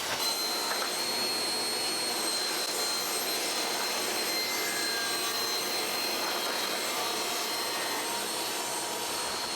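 A table saw rips door casing boards down to 2.5 inches, producing a steady, loud, high-pitched whirring roar that holds evenly throughout without breaks.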